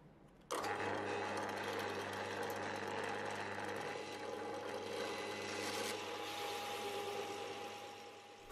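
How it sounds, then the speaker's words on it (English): A steady power drill grinding into wood, drilling a shallow rebate for a speaker port, starting abruptly and running continuously at a constant pitch, loud and close. "I am just drilling a shallow rebate for the port to fit into."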